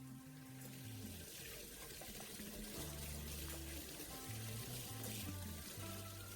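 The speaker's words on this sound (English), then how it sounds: "So I'm just rinsing it with water" Tap water runs steadily over a silicone ring being rinsed in a sink, a constant splashing stream under faint background music.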